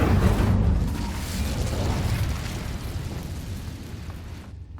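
An Incendio fire spell cast in the video game Hogwarts Legacy erupts in a loud whooshing roar of flame, strongest at the start and slowly fading over a few seconds.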